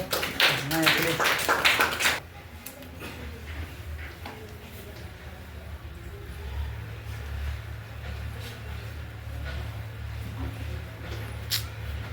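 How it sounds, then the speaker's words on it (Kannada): A short burst of many hands clapping for about two seconds, then it stops, leaving quiet room noise with a low steady hum. "ಚಪ್ಪಾಳೆ ಹೊಡ್ರಿ"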